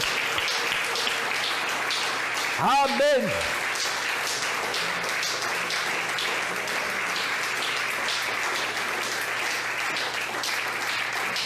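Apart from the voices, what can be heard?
church congregation applause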